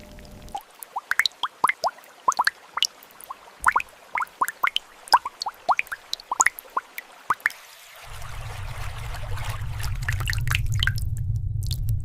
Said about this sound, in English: The story of a sinkhole begins with a single drop of water, repeated millions of times in the dark.